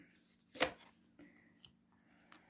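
One quick riffle of cards being shuffled, followed by a few soft taps and slides of cards, close and quiet.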